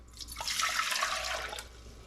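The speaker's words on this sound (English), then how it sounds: "So I'm going to start with 2 cups of vinegar." Vinegar poured for a pickling brine for peppers, a steady liquid stream running for about two seconds, fairly close and moderately loud, with no talking.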